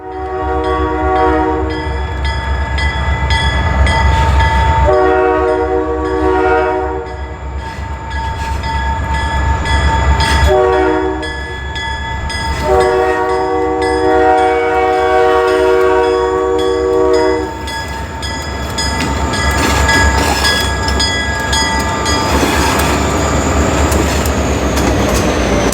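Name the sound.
Pan Am DO-1 freight train passing, horn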